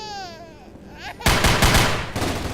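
An assault rifle fires in the video game Zombie Panic! Source: after a quieter moment of tonal sound comes a sudden, loud, rapid burst of close shots that keeps going to the end.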